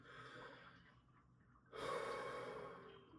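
A person breathes slowly in and out, a soft airy inhale followed by a louder, longer exhale, close and otherwise quiet.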